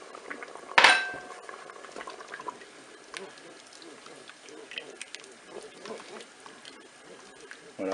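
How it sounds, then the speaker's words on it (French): Diluted cornstarch poured into a blanquette in a Cookeo pot, a sharp spoon clink on the pot followed by soft stirring, liquid sounds and light utensil taps, with talking in the background. "J'ajoute ma cuillère à soupe de maïzena diluée dans de l'eau."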